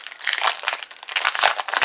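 Crinkling, rustling paper as an envelope pack is pulled open, in several quick bursts of crackle close to the microphone, with no talking.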